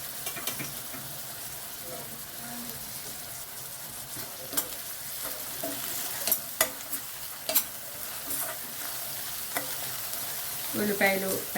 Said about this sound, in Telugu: ఈ పీతల్లో ఫ్రై చేస్తాను